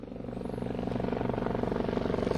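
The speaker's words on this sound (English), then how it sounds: "Let the helicopters fly even when you're invoking a Socratic note." Helicopter rotor thumping at a steady fast beat during an outdoor talk, the pulsing drone growing slightly louder as the aircraft passes overhead; no speech is heard over it.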